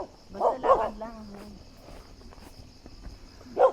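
Dogs bark outdoors during a short family hike, a quick cluster of barks early on and another single bark near the end, moderately close, with faint insect chirring and footsteps in the background.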